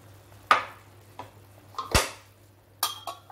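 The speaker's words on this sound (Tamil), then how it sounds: "இந்த மாதிரி தட்டை வச்சுட்டு கொஞ்சம் ஓரமாக இடைவெளி விட்டு மூடி வைங்க." Metal plate being set and shifted over a simmering pot of Madurai-style salna as a loose lid, several sharp clinks and clatters of metal on metal, close and distinct, with quiet gaps between them.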